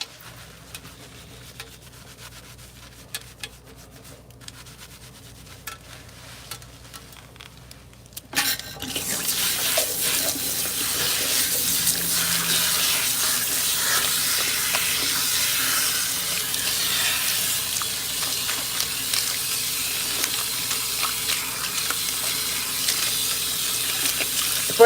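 Water runs steadily from a salon shampoo sink onto natural or relaxed hair during a wash, beginning abruptly after a quiet stretch and continuing as a loud, even hiss with faint rubbing of hands in the hair.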